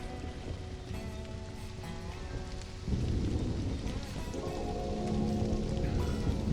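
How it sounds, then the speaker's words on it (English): Rain in the video game Stranded: Alien Dawn falls as a steady hiss over game music, swelling a little louder partway through with a low rumble beneath. "Ooh, rain is good."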